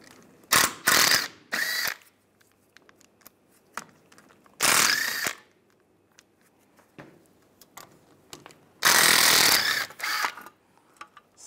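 A ratchet with an 8 mm socket backs out the bolts on a sensor shield of a 1995-2001 Ford Explorer front wheel: several loud, close bursts of rapid clicking separated by quieter clinks of handling.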